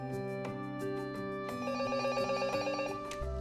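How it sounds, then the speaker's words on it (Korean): A telephone rings with a quick, repeating electronic melody of bright tones, fairly faint, running steadily with no voices over it. "귀가를 알리는 남편의 전화."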